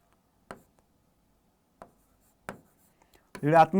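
Writing numbers on a board in a math lesson: three short, separate scratchy marker strokes in near silence, then a person starts speaking.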